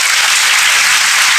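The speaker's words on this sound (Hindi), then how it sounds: "इतने अच्छे रैंक के साथ एक बार खूब ताली बजा दीजिए आप लोग बढ़िया से" An audience applauds loudly and continuously, a dense, close wash of clapping hands with no pauses.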